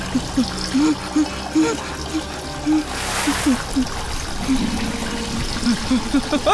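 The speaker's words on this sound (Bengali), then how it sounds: "জল বন্ধ করো, আরে কল বন্ধ করো" Water runs from a household tap in a steady trickling splash, close by, while voices call out over it throughout.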